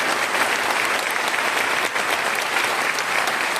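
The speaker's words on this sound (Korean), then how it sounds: "한 번 더 그 하나님께 감사의 박수, 영광의 박수 올려드립니다." Congregation applauding during a church sermon, a dense sustained wash of many hands clapping, loud and even throughout with no speech over it.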